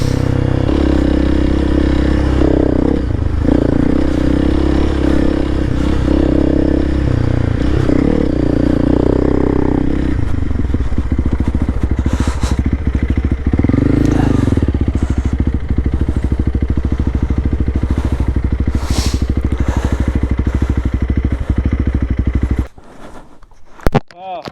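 A Honda CRF300L Rally motorcycle with an upgraded exhaust runs throughout, its engine droning and rising and falling in loud revs, while a rider talks over it; the engine cuts off near the end.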